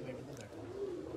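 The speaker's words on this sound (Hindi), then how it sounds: "वाकई में बड़ा अच्छा कबूतर लेकर आए हैं राणा साहब दिखाने के लिए" Teddy pigeon softly cooing nearby in a short, steady murmur, with a low continuous hum and some background noise throughout.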